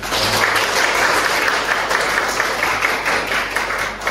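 A room of vocational school students applauds in a class session, a steady, dense burst of clapping at even loudness that tapers slightly at the end.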